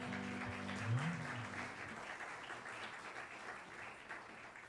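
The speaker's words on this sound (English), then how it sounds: "Big round of applause for Pat." A church congregation applauds a member right after singing her happy birthday, faint and distant clapping spread evenly under a low hum and a few voices.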